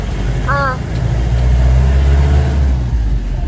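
A jeep engine runs steadily at close range, a continuous low rumble throughout with a brief chirping sound near the start, on a trip into a Munnar forest in Kerala.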